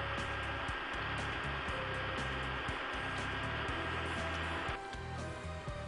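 An SWR12 robot vacuum cleaner runs with a steady, whirring motor hum and scattered brushing clicks, holding close and even before the tone shifts slightly near the end.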